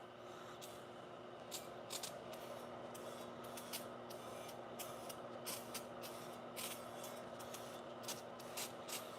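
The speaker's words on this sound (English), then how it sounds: "I get the good stuff, the brake clean. And I just give her a little squirt." Brake cleaner aerosol sprayed in several short hissing squirts while prepping wheels and an engine for paint on a 1966 Ford F100, the bursts irregular over a low steady hum.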